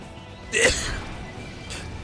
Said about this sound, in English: I don't like sneezing while I stream